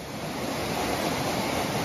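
Mountain river on the Appalachian Trail rushing steadily, a loud continuous broadband roar of flowing water close by, with some wind noise and no voices.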